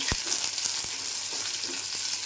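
Okra sizzles loudly in hot oil tempered with mustard seeds, garlic and curry leaves, a dense steady crackle with a few sharp clinks of a spoon against the pan.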